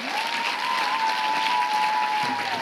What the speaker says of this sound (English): Let's express our gratitude for Maria's exceptional talent with another round of applause.